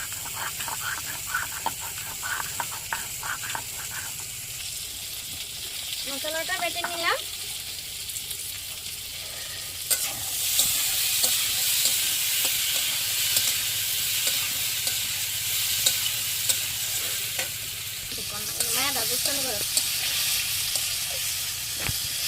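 Green chillies and ginger spice paste frying in a pan for a bottle-gourd fish curry: continuous close sizzling with occasional stirring scrapes, growing louder midway, with no talk.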